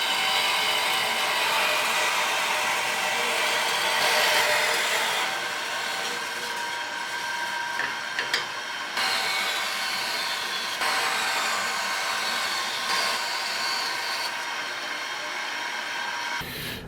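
A bandsaw cuts a rough disc from a chunk of stock in a workshop, a steady bright whine and rasp running continuously with brief pauses and shifts in pitch as the blade moves through the material.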